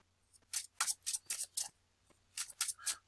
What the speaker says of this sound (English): shuffle all the cards back